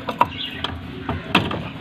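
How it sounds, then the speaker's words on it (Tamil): A 24 mm spanner is tapped on a bike wheel nut to tighten it during a brake shoe change, giving about four sharp, close metallic knocks at uneven intervals. "இது வீல் டைட் பண்ணும்போது இப்படி தட்டினா போகிறோம்,"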